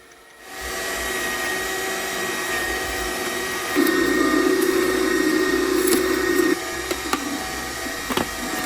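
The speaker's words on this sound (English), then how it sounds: "the machine went to work on it straight away, breaking down the apple with no issues" AMZChef 1902B juicer grinding red apples, a steady motor whir running throughout, close and fairly loud, with a harsher grinding tone rising through the middle stretch before easing back, plus a few faint knocks near the end.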